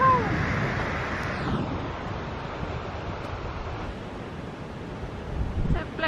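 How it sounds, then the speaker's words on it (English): Waves surge and wash into a sea blowhole at Porthgwarra, Cornwall, a broad rushing roar that swells and fades under strong wind noise, with brief voices nearby. "And look, a blowhole!"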